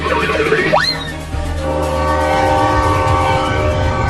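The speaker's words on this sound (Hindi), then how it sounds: "अरे देखो ट्रेन चलने लगा।" A cartoon train pulls away from a station. A rising whistle or horn toot sounds, then a loud, steady rumble of wheels and engine continues to the end with no talk.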